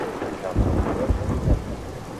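Steady rain hisses throughout while low rumbles of thunder roll in a few times, fairly close and heavy, in the video game Everybody's Gone to the Rapture.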